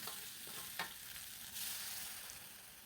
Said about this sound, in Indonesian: Nah, diaduk-aduk seperti ini sampai bumbunya itu benar-benar matang semuanya